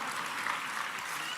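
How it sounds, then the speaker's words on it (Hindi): At a ceremony where the Chief Minister honors successful UPSC candidates, an audience claps in dense, even applause to welcome an honoree, heard for a short continuous stretch. "तालियों से स्वागत करेंगे श्री शुभम कुमार शर्मा जी का।"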